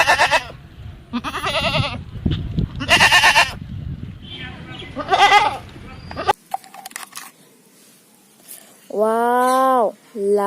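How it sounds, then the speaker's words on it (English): A toy goat with a recorded bleat, giving a short, clear, wavering bleat after stretches of loud, busy mixed sounds and a quiet gap. "Goat. Yellow goat."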